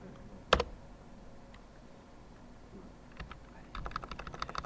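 Fingers press the small plastic keys of a calculator keypad at close range, with one sharp early tap and then a quick run of rapid clicks near the end. Nobody speaks.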